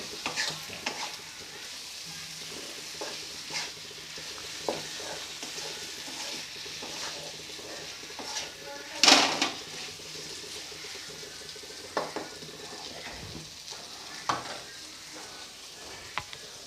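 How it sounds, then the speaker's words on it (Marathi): Babchi seeds fry in tempering oil with a quiet, steady sizzle, occasional scrapes and clinks of stirring, and one sharper hiss partway through. "बावची फोडणीमध्ये परतून घेऊ."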